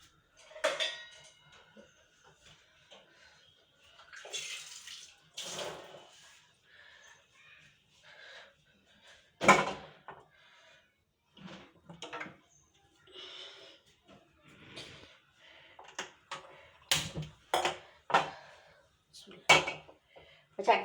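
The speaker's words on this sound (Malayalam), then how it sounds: "ചട്ടി വെച്ചിട്ടുണ്ട് കേട്ടോ." A cooking pan is set down on a gas stove in a home kitchen, ahead of cooking a spinach curry; short metallic clanks and knocks of cookware come in scattered bursts, fairly close, with quiet gaps between them.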